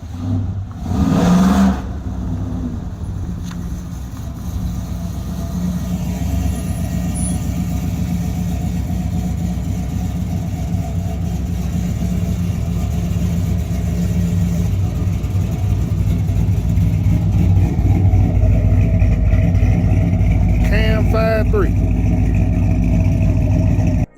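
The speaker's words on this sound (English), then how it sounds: "You hear that engine revving?" A car engine rumbles loudly and close, revving up and holding a strained roar, with a brief higher whine near the end.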